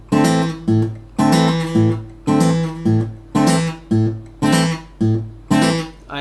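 Guitar chord strummed repeatedly in a Travis picking exercise, about eight evenly spaced bright strums with a steady pulse, each decaying before the next, played alone and close.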